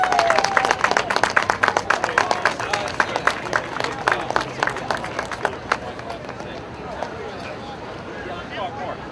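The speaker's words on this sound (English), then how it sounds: "Big round of applause" Crowd applause at an outdoor protest rally in Union Square Park, New York City: loud, dense clapping at first that thins and fades toward the end, with voices and cheers mixed in.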